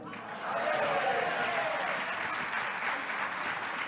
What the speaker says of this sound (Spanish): Es lo que queremos, oír vuestros aplausos.